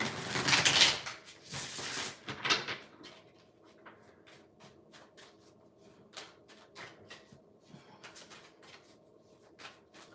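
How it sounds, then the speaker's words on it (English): A deck of tarot-style reading cards is riffled in loud, crisp bursts over the first few seconds, then settles into light taps and clicks as the cards are squared and handled, with no talking. "Let me give this a good shuffle because there's quite a few more cards here."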